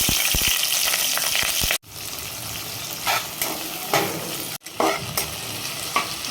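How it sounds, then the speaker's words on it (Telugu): Onions and green chillies fry in a pan with mace, cloves, bay leaf and cardamom for a Rayalaseema kushka, a steady loud sizzle with repeated scraping stirs, briefly cut off twice. "ఆనియన్స్ని బాగా వేయించుకోవాలి."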